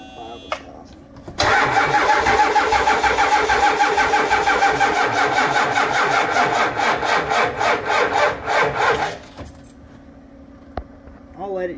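A Ford 7.3 IDI diesel engine cranks over with a fast rhythmic starter churn for about eight seconds, loud and close, then falls back to quiet without catching.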